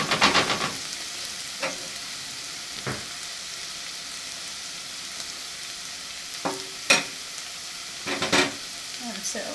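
Meat pieces and onions brown in a pan with a soft, low crackling sizzle, punctuated by a few sharper clinks and scrapes from stirring at scattered moments.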